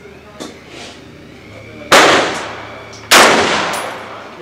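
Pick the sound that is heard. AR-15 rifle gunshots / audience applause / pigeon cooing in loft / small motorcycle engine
AR-15 rifle gunshots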